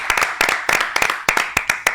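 An audience at a Spanish-language business event honoring Argentine entrepreneurs claps, giving quick uneven rhythmic hand claps, close and fairly loud without speech.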